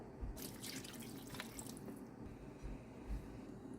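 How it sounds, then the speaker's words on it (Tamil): About a cup of water is poured into a cooking pan, giving a soft, continuous splashing trickle with a few brief louder gushes, heard faintly and alone. "இப்போ 1 கப் தண்ணி ஊற்றிடலாம்."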